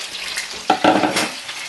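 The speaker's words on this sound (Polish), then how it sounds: "Wrzucam na patelnię surowe ziemniaki" A short burst of sharp, crackling sizzle as raw potatoes hit a hot pan, close and fairly loud.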